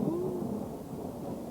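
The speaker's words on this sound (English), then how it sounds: "It rained, and the rain dripped through Baby Bear's helmet." A soft, low rumble of thunder with a faint wash of rain serves as a storm sound effect in a children's story reading. It stays quiet and steady throughout, with no voices.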